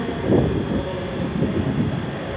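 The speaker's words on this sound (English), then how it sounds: "departing out is the 14:26 ScotRail service to Edinburgh Waverley via Falkirk Grahamston" A ScotRail Class 385 electric unit pulls out of Glasgow Queen Street on a service to Edinburgh Waverley, giving a steady low rumble of wheels and traction that swells slightly and stays close and moderately loud throughout.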